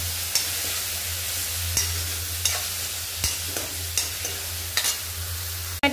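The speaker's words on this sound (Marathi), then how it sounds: "टोमॅटो सुद्धा एकदम व्यवस्थित परतून घ्यायचे" Two medium-sized chopped tomatoes stir-fried with onion and ginger-garlic paste in a pan for masala pav, a steady close sizzle broken by repeated scrapes and clacks of a spatula stirring, ending in a sharp knock.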